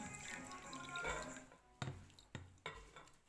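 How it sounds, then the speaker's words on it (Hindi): About a cup of water poured into a bowl for a homemade hair remedy: a soft, steady trickle of liquid that tapers off into three or four separate drips and splashes. The sound is close but faint, with no talking. "अब इसी प्याले के अंदर मैं थोड़ा सा पानी और डालूंगी"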